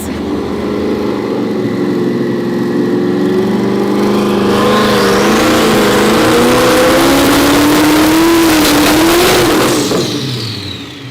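A record-attempt car with its engine running rich, revving hard: a loud, close engine drone that climbs steadily in pitch to a harsh peak, then drops off sharply near the end.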